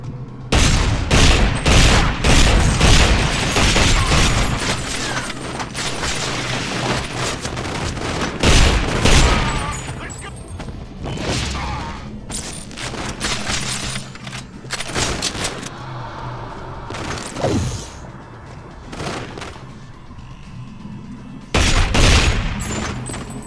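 Gunfire in GoldenEye: Rogue Agent comes as dense, loud volleys of rapid shots and booming blasts. Bursts keep repeating with brief lulls between them.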